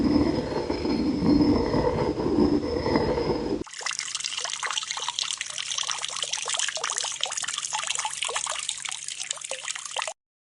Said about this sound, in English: Then he drew water and gave it to Rachel's sheep.